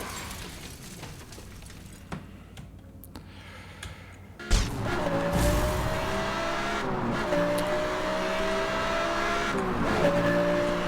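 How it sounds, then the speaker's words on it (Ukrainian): Car crash in Need for Speed: Hot Pursuit (2010): after quieter driving, a sudden loud impact bang, then a louder, continuous engine roar and road rush with a siren-like tone. "Ай, ще й аварія."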